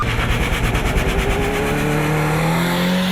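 Cars race on a rain-wet autodrome during a regional auto multi-sport championship, engines roaring close and loud, one revving with rising pitch as it accelerates past, continuous throughout.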